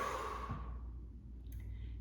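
One close, breathy sigh-like breath during exercise, loud at first and tapering off over about a second, followed by quiet low background hum.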